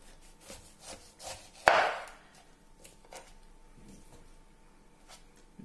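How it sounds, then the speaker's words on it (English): A sharp knife cuts the ends off a pineapple: quiet woody scraping and rubbing strokes, with one sharper, louder chop near the middle, then softer slicing sounds afterward. "So just using a sharp knife, remove the ends."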